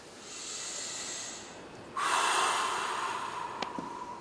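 During a seated chair exercise, a deep breath is drawn in and then let out in a long, close, breathy rush.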